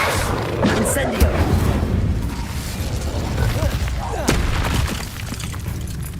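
A fire spell is cast in the Hogwarts Legacy video game, heard as a busy stretch of magical effect sound with low rumbling booms, crackles and sharp mechanical clicks layered together, steady and fairly loud throughout.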